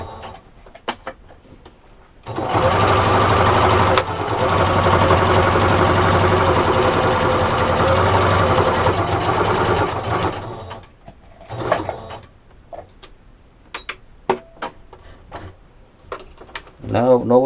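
A sewing machine stitches through a microfiber sponge in one sustained whirring run of several seconds, with short clicks and handling noises before and after.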